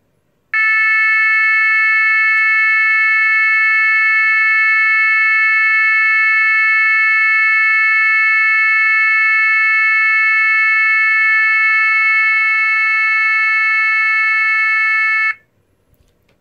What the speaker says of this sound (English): Next is 440 hertz continuous.